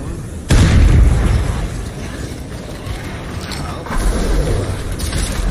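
A sudden loud explosion from a thrown explosive in State of Decay 2 bursts out after a brief lead-in, then trails into a long rumbling tail with a second swell near the end.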